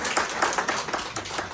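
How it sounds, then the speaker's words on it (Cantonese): An audience at a Hong Kong off-plan property expo seminar claps steadily in a dense, continuous burst of applause, with no speech over it. "咁啊又要俾掌聲啊"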